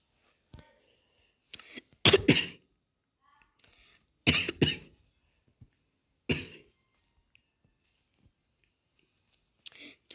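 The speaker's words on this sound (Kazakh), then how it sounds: "Достар, кешіріңіздер, жөтеліп кеттім." A person coughs in several short, harsh bursts spaced a few seconds apart, close and fairly loud against near silence.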